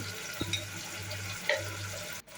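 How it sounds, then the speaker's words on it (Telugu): Tomatoes frying with ginger garlic paste and spices, a quiet, steady sizzle with a few soft stirring knocks, close but low in level, and no speech. "అల్లం వెల్లుల్లిలో ఉండే పచ్చి వాసన పోయేంత వరకు బాగా వేయించుకోండి"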